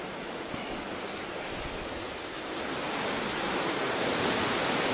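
Water pours continuously over a weir beside a lock and bridge, a dense, steady rushing roar that swells slightly louder toward the end, with no voices.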